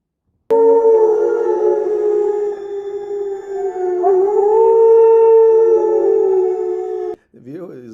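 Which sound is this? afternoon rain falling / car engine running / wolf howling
wolf howling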